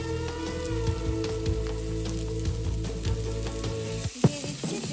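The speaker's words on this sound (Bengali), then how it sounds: "এবার এর মধ্যে আমি অ্যাড করব পরিমাণ মতো জল।" Vegetables frying in a pan just as water is added, a steady close sizzle with scattered pops and crackles, and a brief stir or clatter near the end.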